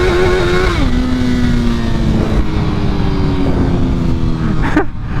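A 2022 Suzuki Hayabusa sport bike accelerates hard close by, its engine note climbing, stepping down at a gear change, then pulling steadily upward before cutting off near the end.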